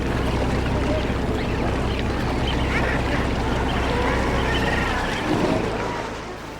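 A dense seabird colony of guillemots and kittiwakes crowds the cliffs of Brownsman in the Farne Islands. A constant loud chorus of overlapping calls carries over wind and surf.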